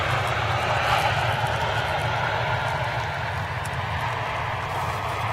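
A jet airliner landing at Manchester with clamshell thrust reversers deployed gives a steady, loud roaring rumble that holds evenly throughout without a break.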